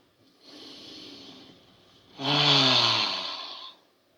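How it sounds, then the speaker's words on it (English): A person breathing in deeply: a soft, airy inhale is followed after a brief pause by a louder, fuller breath with a slightly throaty, snorting edge, both close and without any talk. "Take a deep breath."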